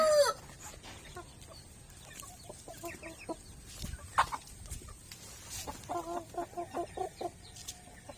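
Rhode Island Red chickens cluck in short repeated bursts, fairly close, with scattered rustling between calls and a quick squawk at the start.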